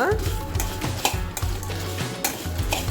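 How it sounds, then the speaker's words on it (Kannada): Peppercorns and other whole spices fry in a teaspoon of oil for Mangalore chicken ghee roast, a steady close sizzle broken by repeated scraping and stirring clinks of a spoon against the pan. "ಅದರಲ್ಲಿ ಮೆಣಸು ಹಾಗೂ ಈ ಉಳಿದ ಇಂಗ್ರೀಡಿಯೆಂಟ್ಸನ್ನು ಫ್ರೈ ಮಾಡುವ"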